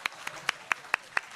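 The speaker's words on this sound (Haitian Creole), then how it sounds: "Applaudissez panel moi s'il vous plaît." A small audience clapping for a panel, six sharp separate claps spaced evenly across a brief moment, thin and sparse rather than a full ovation.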